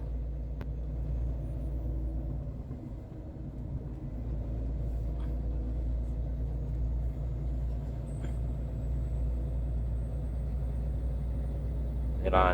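A heavy truck loaded with 60 tons of limestone drives along under light throttle, its engine a steady, continuous low rumble that stays even and close throughout.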